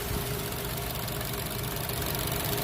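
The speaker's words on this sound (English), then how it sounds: "So the engine is running" A 2016 Chevrolet Cruze engine idling with a faulty purge valve, a steady low rumble and mechanical hum with a light ticking undertone, close and constant, with no talking.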